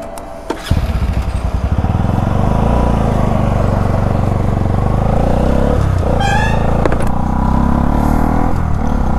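A Bajaj Pulsar NS200 motorcycle engine starts and idles with a rough, chugging rumble, then holds a steady loud drone with brief clattering and a short rev near the end.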